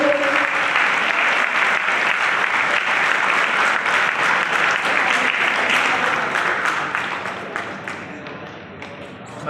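An audience claps loudly and continuously during a ceremonial lamp lighting at a commemorative public gathering, dense applause sustained for several seconds before thinning and fading out toward the end.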